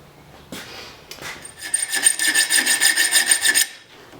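A hand file rasps across saw blade steel being shaped into a knife, starting with a few scattered scrapes, then settling into a quick run of rhythmic, loud back-and-forth strokes before stopping.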